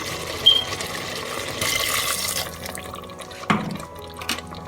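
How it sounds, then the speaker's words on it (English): Water pours into a pressure cooker of mutton korma in a short splashing rush, then trickles and drips, with a few clinks of metal nearby. "Now adding in about 1 cup of water."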